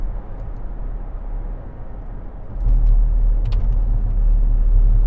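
A Range Rover Sport 3.0 SD V6 HSE drives on the road around bends, its steady low engine and road rumble swelling louder partway through and holding there.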